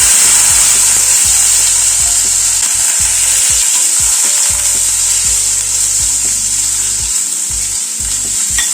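Long-cut potato strips frying in hot oil in a pan, a loud, continuous bright sizzle with scattered low knocks and scrapes from stirring, no voices.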